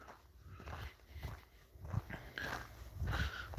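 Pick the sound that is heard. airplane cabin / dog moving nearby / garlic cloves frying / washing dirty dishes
dog moving nearby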